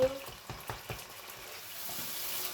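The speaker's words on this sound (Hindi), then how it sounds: "तो इस तरह मसाला भी हमारा झटपट भुन जाएगा" Masala for mutton kofta fries in a pan with a soft, steady sizzle, broken early on by a few light stirring knocks, then a continuous faint hiss at close range.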